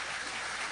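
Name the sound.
congregation applauding in church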